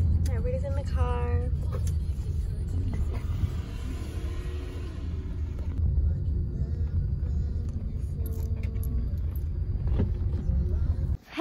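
A low, steady rumble of a car driving, heard from inside, with people talking faintly over it now and then.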